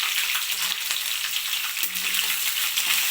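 Mustard seeds and green chillies frying in oil in a pan, a dense, steady sizzle with fine crackling pops throughout, close and fairly loud, no voices.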